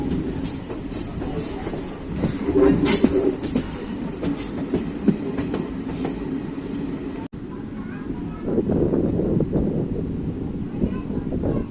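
The Tiruchendur Express passenger train rolls steadily along the rails with a continuous rumble and rhythmic clatter, loud and close, while a voice talks over it.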